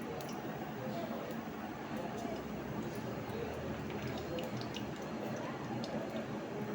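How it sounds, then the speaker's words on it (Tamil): Mustard seeds crackle and splutter in a small amount of hot oil in a pan, a dense, steady sizzling patter of tiny pops that continues evenly throughout. "கடுகு நல்லா பொரியட்டும்."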